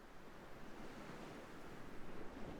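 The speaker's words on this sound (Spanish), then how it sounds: "Escucha cómo sus olas besan la playa." Ocean waves wash steadily onto a beach in a continuous, soft roar of surf, with a gentle rise and fall in loudness and no voices.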